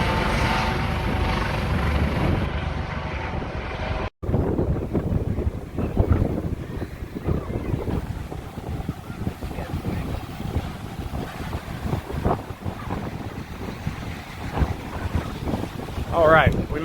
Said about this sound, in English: Hopefully you can hear me through all this wind